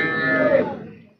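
A Holstein Friesian cow moos once at a cattle market in Punganur, a single loud, drawn-out low call that fades away after about a second.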